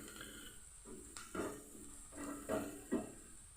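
Onions frying in a pan for egg bhurji, a soft steady sizzle with a few stirring scrapes of a spatula against the pan, close and fairly quiet.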